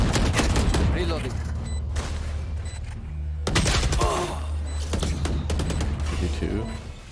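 Gunfire in a video game shooter, repeated rapid bursts of shots and booms with a louder volley midway, mixed with game effects and low background tones.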